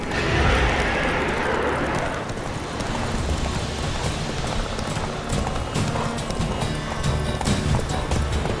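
Roach, Geralt's horse in The Witcher 3, galloping with rapid, steady hoofbeats close by, loud throughout and alone, with a brief whoosh at the start.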